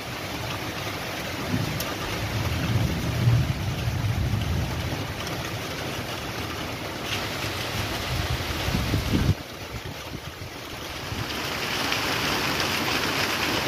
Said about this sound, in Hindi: वो देखो बारिश शुरू हो गई